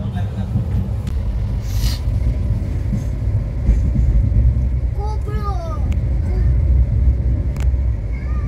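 A moving train on a family rail journey gives a steady low rumble throughout, with voices and chirpy sounds over it in the middle.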